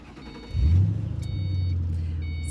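A Ford Mustang engine in a Ford v Ferrari trailer roars up sharply, then holds a steady, deep rev, loud and close, with no talk.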